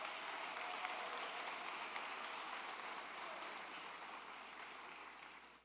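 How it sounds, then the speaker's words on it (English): An audience at a high school graduation claps for an honoree, a fairly distant, steady sheet of applause that slowly tapers off toward the end. "Please give a round of applause to him."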